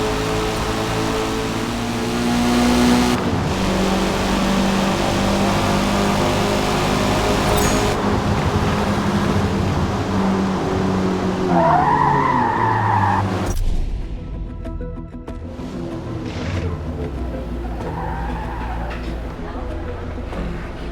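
A 1994 Mazda MX-5 Miata laps VIR North in the Forza Motorsport racing game, with a loud, continuous engine drone that rises and falls through gear changes, plus bursts of tire squeal and skidding in the corners.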